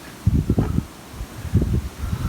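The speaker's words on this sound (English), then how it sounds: "It's a bit windy" Wind gusting across a bridge above water buffets the microphone in two low, rumbling bursts separated by a calmer moment, with no one speaking.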